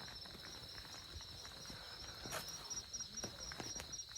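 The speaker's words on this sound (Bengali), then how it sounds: "আশেপাশে পাখির ডাক আর ঝিঝির ডাক।" Crickets in rural Purulia countryside at a Keshra camp among trees give a steady high-pitched trill that runs through the whole span, with a few faint rustles and taps nearby.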